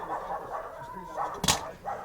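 Dogs fight and bark nearby during a classic car dashboard repair, a snarling scuffle of growls and yips capped by one sharp loud bark, all brief and close.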